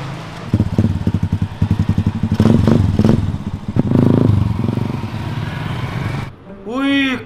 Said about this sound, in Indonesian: Keren banget geng motor itu.